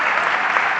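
A plenary audience gives a loud, dense round of applause for the panel participants. The clapping stays sustained and even for the whole moment, with no speech over it.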